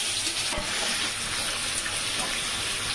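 Hot oil sizzling in a pan, a loud continuous close-up hiss with a dense crackle and one brief sharp knock early on.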